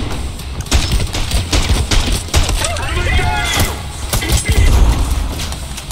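Gunfire in the shooter game Trepang 2, several sharp loud shots in quick bursts with booming low impacts, under someone talking.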